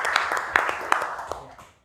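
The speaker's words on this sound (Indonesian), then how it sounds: "Kasih tepuk tangan loh dari Surabaya" A small audience at a crypto seminar claps briefly for guests from Surabaya, a short scattered burst of hand claps that fades within two seconds.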